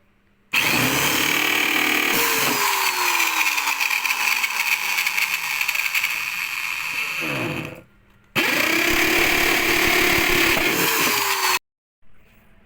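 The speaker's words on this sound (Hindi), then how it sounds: "अपन ड्रिल की सहायता से इसमें बोर्ड में छेद कर लेते" An electric drill bores holes through a wooden meter board for mounting switches, two long loud whining bursts of drilling separated by short gaps, close by and without talk.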